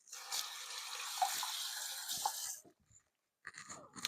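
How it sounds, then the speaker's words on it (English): Water runs from a tap over hands being washed at a sink, a steady hiss with soft splashes for about two and a half seconds, then stopping, with a short rustle after a pause. "Let me wash my hands."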